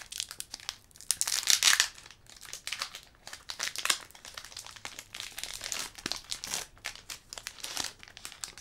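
Crinkly foil wrapper of a Pokémon card booster pack being torn open and handled, a dense run of sharp crumpling and tearing bursts close to the mic with brief pauses, no talking.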